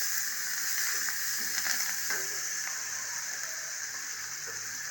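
A chickpea and soya chunk kurma mixture with onion and curry leaves sautés in a pan, giving a steady, loud broadband sizzle throughout, with faint scraping and stirring ticks over it and no talk.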